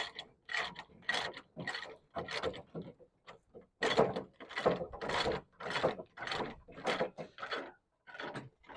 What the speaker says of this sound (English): So as he ratchets, he has enough he has enough thread to tighten everything up.